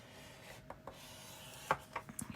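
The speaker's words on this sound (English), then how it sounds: "I'm going to score the bottom part 1/2 inch," A scoreboard scoring paper, with soft close scraping rubs and a few sharp little clicks and taps of the stylus against the board, faint and intermittent over quiet room tone.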